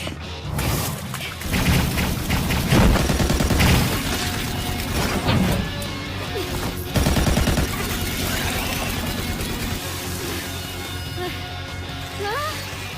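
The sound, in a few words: full automatic gunfire in an anime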